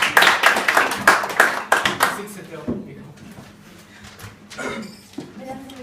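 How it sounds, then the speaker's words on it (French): A small audience at a student debate practice claps for the second opposition speaker, with brisk, distinct handclaps for about two and a half seconds, then quieter room noise and a voice starting to speak. "La seconde députée de l'opposition sous votre applaudissement."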